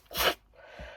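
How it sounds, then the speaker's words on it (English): One person gives a short, sharp nasal blow and then a softer second exhale, close and quiet, with no talking. "I hate blowing my nose in front of you guys."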